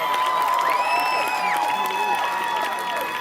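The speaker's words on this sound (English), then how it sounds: "another round of applause for our awesome Russell County High School Warrior Band" A stadium crowd at a high school football game claps and cheers for the Russell County High School Warrior Band. Whoops rise and fall over a continuous wash of applause that stays steady for about three seconds.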